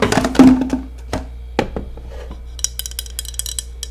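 Glass and metal parts of a French press clink and tap as it is handled on a home coffee bar, a few distinct knocks early on, then lighter scattered clicks and rattles, close and crisp with no talking.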